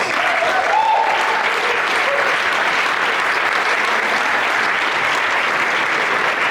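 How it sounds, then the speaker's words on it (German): A short, steady round of audience applause for a Swiss folk choir at its tenth anniversary concert in Rohrhof Sulz, a dense, even clapping that holds for several seconds. "Kurzer Applaus."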